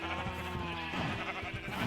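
Sheep bleat in the Minecraft video game, with one drawn-out, harmonic bleat followed by another shorter bleat over a soft continuous background.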